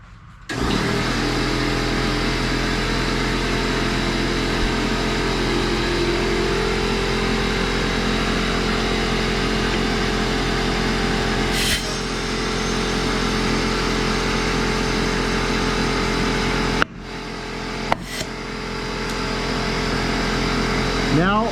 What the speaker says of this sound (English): So let me turn on that air compressor and we'll get it going.